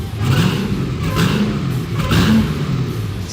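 A 1958 Plymouth Fury with a 1,000 horsepower engine revs loudly and close, throaty rumbling surges rising and falling in a few repeated pulls.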